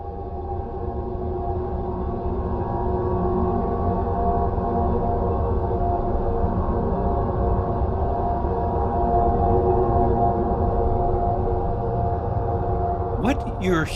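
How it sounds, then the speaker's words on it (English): A deep, steady droning hum recorded inside the Cave of Spirits in Tibet, resembling a chanted mantra, rich in low tones and continuous for the whole stretch, ending with a brief crackle. "A very interesting hum similar to the performance of a mantra appeared on February 25th, 2011 in the Cave of Spirits in Tibet."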